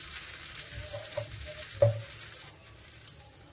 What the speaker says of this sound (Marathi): आता आपण हे लाटलेली पोळी टाकून देऊया.